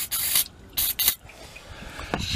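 Brake cleaner is sprayed from an aerosol can during a Nissan Versa oil change, three short, loud hissing bursts close by followed by quieter faint hiss.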